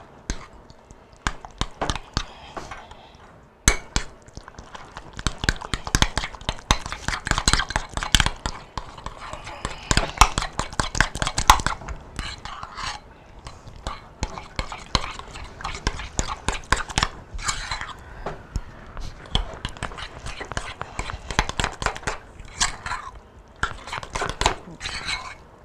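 A dish being stirred and mixed in a bowl, with rapid irregular clicks and scrapes of the utensil close up, busy and continuous with brief pauses, while a person talks over parts of it.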